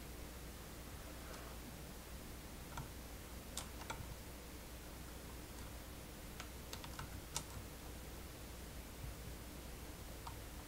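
Faint, sparse keystrokes on a computer keyboard, scattered single taps and small clusters over a constant background hiss.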